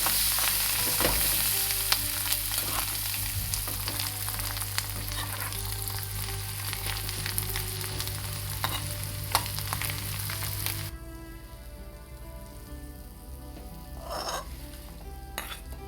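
Turmeric and chopped coriander fry in hot oil for masala idli batter, a steady close sizzle with light stirring clinks; partway through the frying drops to a quieter, thinner crackle.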